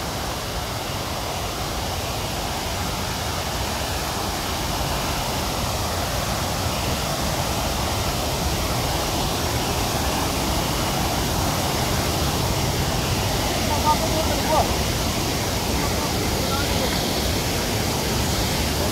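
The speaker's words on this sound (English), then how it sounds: "This is Silvetta waterfall in Karbi Anglong" Silvetta waterfall in Karbi Anglong near Dipu gives off a steady, broadband rush of falling water, loud and unchanging throughout, with no clear voices rising above the roar.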